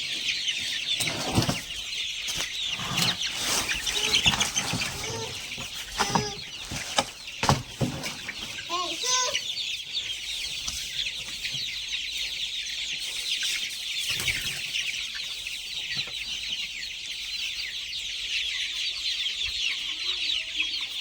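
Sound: chicks clucking while eating larvae

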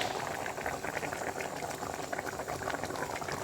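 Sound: mutton trotter paya curry coming to a boil

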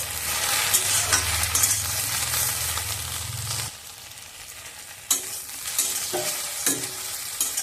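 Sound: stirring spices frying in a pot

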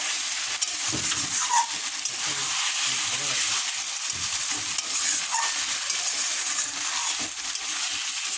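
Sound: stirring homemade rice biryani in a pan

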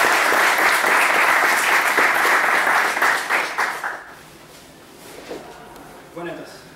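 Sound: audience applause

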